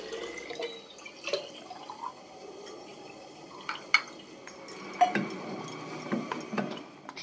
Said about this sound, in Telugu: పిల్లలకి స్కూల్కి తీసుకెళ్ళడానికి వాటర్ బాటిల్స్ అయితే నింపుతున్నానండి